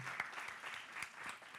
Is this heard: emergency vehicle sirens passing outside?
no